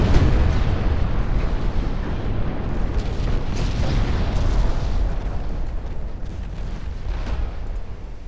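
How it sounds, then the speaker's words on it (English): Torpedo hit explosions in the naval video game Ultimate Admiral Dreadnoughts, a continuous loud roar of overlapping booms and rumbling blasts that holds steady throughout with no talking. "Second torpedo strike was quite a bit more effective."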